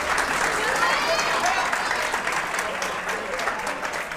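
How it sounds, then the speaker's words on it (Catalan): A studio audience on a Catalan TV quiz show applauds loudly and continuously for a few seconds, with faint voices mixed into the clapping. "No passa res, aplaudim-lo també"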